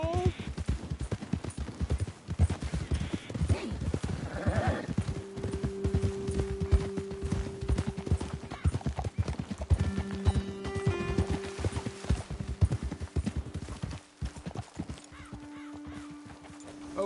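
Horses clip-clop along at a trot in the Red Dead Redemption video game, their steady hoofbeats continuing throughout alongside an occasional whinny, with game music tones and a voice speaking intermittently over the movement.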